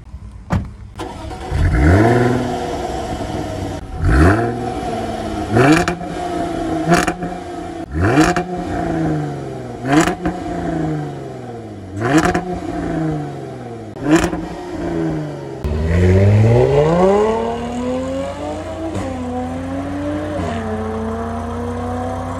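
A Jaguar F-Type's supercharged 3-litre V6 is blipped in a series of sharp, loud revs at a steady rhythm, each one rising and falling, followed by a longer, sustained climb in revs, close by.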